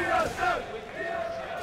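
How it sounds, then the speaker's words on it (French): Spectators fill an esports arena during a League of Legends match, roaring and yelling in a loud surge that rises and then fades, under a commentator's voice. "Oh mon dieu, la foule est en délire."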